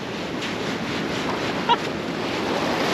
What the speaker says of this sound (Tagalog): Ay, ang ganda ng dagat oh.